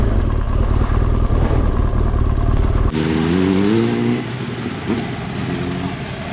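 Motorcycles and cars gather at a busy roadside stop near the Madonna del Penice sanctuary in the Italian mountains. Close engines idle and rumble loudly at first, then rev and pull away before settling into a lower, steadier engine drone.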